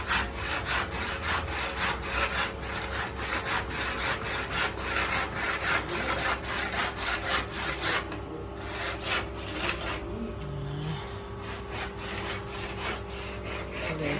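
Rhythmic back-and-forth strokes of a hand saw cut through wood, close and steady, with a brief pause before the rasping resumes.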